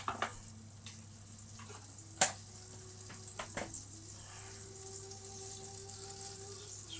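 Butter sizzles and fries steadily in a hot pan with spring onion, a soft continuous crackle broken by a few sharper pops and clicks of utensils, close by with no talking.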